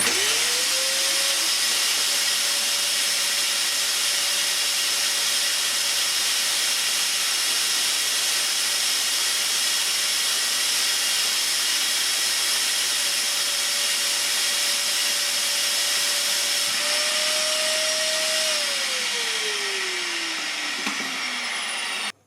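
A Parkside carpet spray extractor vacuum runs steadily with a loud, continuous whooshing hiss and a sustained motor whine, close up and without speech, its pitch rising slightly near the end before winding down and cutting off.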